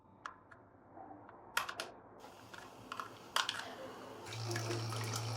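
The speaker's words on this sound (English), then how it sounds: "As you can see, the water is flowing," Water runs through a freshly cleaned WAUDOG automatic pet waterer pump placed in water for testing, with a few sharp clicks and handling noises before a steady low hum and a soft stream fill the last second.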